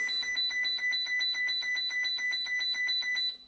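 An MDM 2p Unlimited fruit machine sounds its startup alarm, a loud, rapid, evenly pulsed electronic beeping repeating steadily for several seconds, close and alone before it cuts off.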